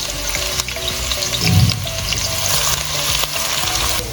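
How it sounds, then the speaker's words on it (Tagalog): Onion sautéing in hot olive oil for a mushroom pasta, a steady close sizzle and crackle with a brief stirring scrape in the middle, no voices. "pwede na po nating i-saute ang ating onion"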